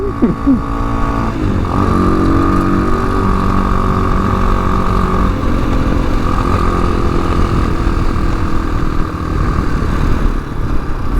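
A TaoTao TBR7 and a Yamaha FZ6R ride together, their engines droning loud and steady with a gear change and shifting pitch early on, then holding an even hum throughout under constant wind and road noise.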